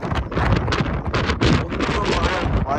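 Strong wind buffets the microphone on Mount Wellington in Tasmania, a loud close roar rising and falling in gusts.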